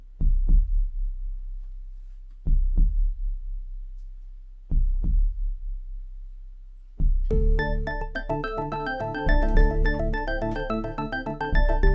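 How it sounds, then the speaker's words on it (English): Deep double-thump heartbeat in an instrumental piece, several evenly spaced pairs over a low rumble, then a dense layer of music and percussion joins it after about seven seconds. "There's that heartbeat."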